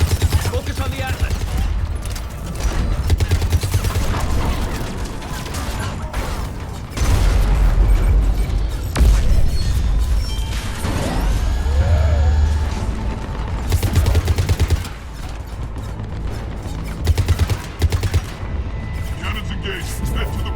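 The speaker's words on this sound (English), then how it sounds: "Cannons engaged." Heavy cannon fire in the Mass Effect 3 video game: booming blasts and rapid volleys roll over a dense, loud battle mix with music and effects, and voices are heard in the game.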